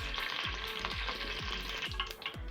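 Palm oil sizzles and crackles in a heated pot, a dense continuous frying hiss broken by repeated low scraping thumps of stirring at a regular pace, close and fairly loud with no talking.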